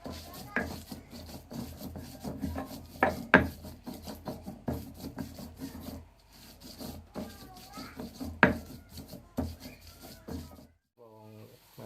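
Spice paste for soy-sauce chicken being ground by hand, a steady rasping, scraping rub with rhythmic strokes that pause briefly and end with a few clinks.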